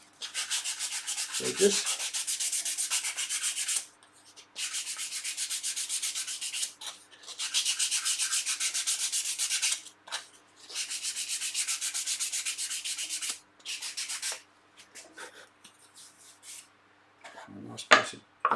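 Sandpaper rubbed back and forth over the edges of a wooden dovetailed secrets box at a workbench, close and steady in several long strokes separated by short pauses, with a brief knock near the start and end.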